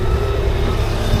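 A bus pulls away near Crib Goch, a steady low engine rumble holding at constant loudness, close by and unbroken, with no voices over it.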